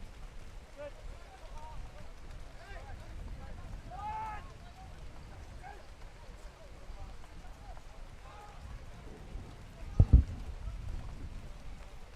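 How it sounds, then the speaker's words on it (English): Rain falls with gusting wind at an outdoor U-17/18 youth soccer match, a steady broadband hiss and rush that runs through the whole stretch, with faint distant voices and a short sharp knock near the end. "Wind still gusting, rain still coming down."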